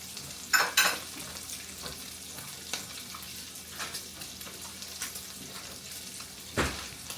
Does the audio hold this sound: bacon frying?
yes